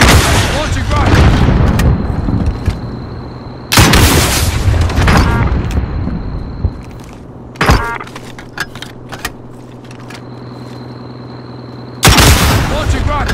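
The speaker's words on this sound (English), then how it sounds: "Launching rocket." A rocket launches and explodes in a video game: loud booming blasts hit at intervals, separated by quieter rumble and scattered impacts, with a voice speaking at times.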